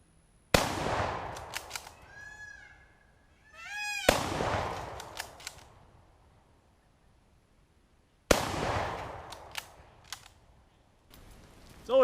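Three loud Mosin Nagant 91/30 rifle shots crack out at roughly four-second intervals outdoors, each followed by a long rolling echo and the ring of a struck metal target bouncing around; no talk.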